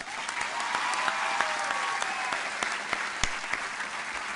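An audience applauds graduates at an Excel Center diploma ceremony, steady dense clapping that holds evenly from start to finish with no voices over it.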